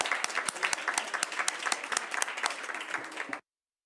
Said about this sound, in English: I just wanted to give a round of applause to our vice chair and our chair